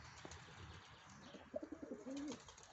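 Breeding pigeons in a loft coo softly as a pair chases each other, giving a few low, faint throaty coos with light rustling in the background.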